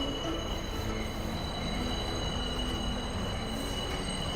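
A subway train passes underneath, a steady deep rumble with metallic ringing tones from the wheels on the rails, continuous and moderately loud with no voices.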